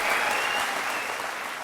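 A studio audience at a televised courtroom-style interview show applauds in a dense, steady wash of many hands, loud and continuous throughout.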